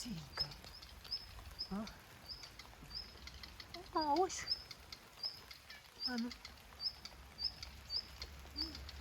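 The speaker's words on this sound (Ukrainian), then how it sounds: "Що це та пташка така цікава?" Birds sing outdoors at a rural country house, repeating short high chirps at a steady rhythm in the background. A few brief spoken words and occasional rustling sit between the calls.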